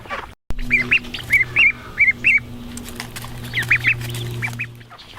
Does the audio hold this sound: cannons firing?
no